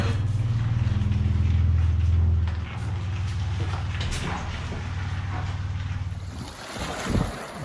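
Sea-Doo RXT 255 jet ski engine rumbling, a loud, deep, steady drone that drops off partway, with wind and water noise and a splash near the end.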